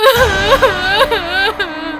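A woman sobs and whimpers over a phone line in a horror film, her wavering, trembling cries continuous, close and filling the short moment.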